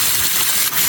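A garden hose sprayer on a jet setting blasts a pool cartridge filter with a loud, continuous hiss of close water spray lasting under a second.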